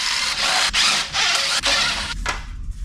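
A power drill fitted with a hex bit backs a screw out of an e-bike frame, giving steady close whirring bursts broken by brief pauses, with no talk over it.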